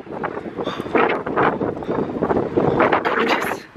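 Gusty wind buffets the microphone in uneven, rushing bursts, loud and close, with no voices.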